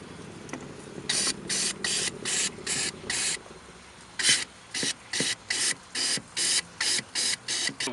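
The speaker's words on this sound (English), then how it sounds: "We're going to continue to spray this thing out" Cleaner sprays into the evaporator box of a 1988–98 Chevy truck's air conditioning in two runs of rhythmic, evenly spaced hissing bursts, about six in the first run and eight in the second, close and fairly loud.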